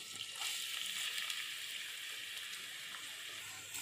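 Chopped onions sizzle in hot oil for mushroom masala, a soft, even frying hiss that stays faint and continuous throughout with no voices.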